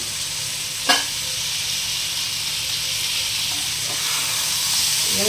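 Ivy gourd (kundri) frying in a pan, a steady bright hiss of sizzling oil throughout with one brief stir or clink near the start, no voices.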